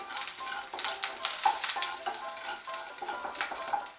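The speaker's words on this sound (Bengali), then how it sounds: "এর মধ্যে আমি কালো জিরে দিচ্ছি। আর একটা কাঁচা লঙ্কা দিয়ে একটু নাড়াচাড়া করে নিয়ে" Nigella seeds and a green chili crackle and sizzle in hot oil for a Bengali drumstick chorchori, with a close, continuous fry broken by scraping stirs and small pops throughout.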